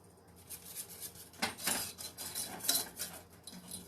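A spoon scrapes and clinks against a pot while stirring sticky honey glaze, a faint, irregular series of metallic strokes close by.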